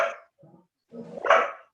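A dog gives a few barks and gruff yips, loud and close, in an uneven sequence with short pauses, ending in one strong bark and no speech.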